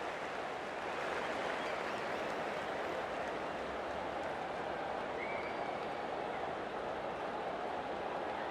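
A stadium crowd at a rugby league State of Origin match between New South Wales and Queensland in 2025 roars in a steady, dense wash of cheering and noise that holds without a break throughout.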